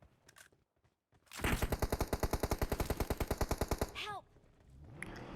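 Rapid automatic gunfire in a battle royale video game as a player shoots at an enemy: a loud, steady burst of about two dozen evenly spaced shots over roughly two and a half seconds, with quieter game sounds before and after.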